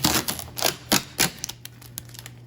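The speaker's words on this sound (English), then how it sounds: "So to get to those, I want to take off this tape." Packing tape peeled off the casing of a GE ADHL35 dehumidifier during setup, with a few sharp ripping bursts followed by lighter ticks and rustles, close and clear with no talk.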